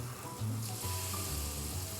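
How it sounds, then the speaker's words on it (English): Quiet, steady sizzling of vegetables frying in hot butter in a pan, a soft continuous hiss with faint background hum. "you can see it's already frying"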